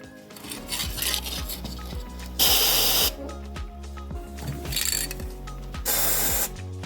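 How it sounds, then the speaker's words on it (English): A ratchet wrench loosens the front lower ball joint bolts on a Toyota Land Cruiser, giving rapid metallic pawl clicks in repeated bursts with brief louder scraping spells, close and clear. "Let's remove the bolts from attachment of the front lower ball joint."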